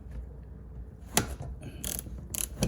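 A socket wrench with a 19 socket on a long extension turns the crankshaft of a Honda HR-V engine, giving a few sharp, stiff clicks and ratchet bursts over a low background rumble.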